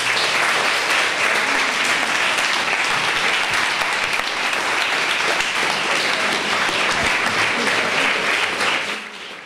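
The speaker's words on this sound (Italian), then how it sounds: "chiedo alla tua classe di farti un altro applauso" A school class applauding Mattia on his return to school in Brindisi after three months in a coma, loud sustained clapping from many hands that tapers off at the end.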